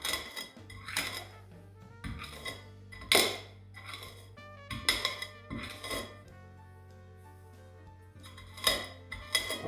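Peppercorns being crushed for steak give a series of hard, clinking metallic knocks and scrapes, about a dozen irregular strikes close by, with a low steady hum underneath and no talking.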